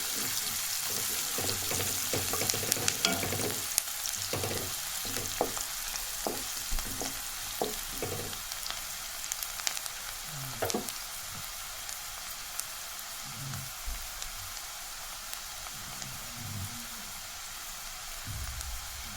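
Onions frying in oil until golden brown crackle and hiss steadily, with a run of rhythmic spatula scrapes and knocks early on that thin out later; close, moderate level, no speech.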